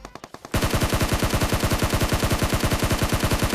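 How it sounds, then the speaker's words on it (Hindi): Rapid automatic gunfire in the PUBG battle-royale game bursts in after a few scattered shots, then runs as a loud, steady stream of evenly spaced rounds, close and without talk. "अब यहाँ पे ये बंदा किसी के ऊपर फायरिंग कर रहा था"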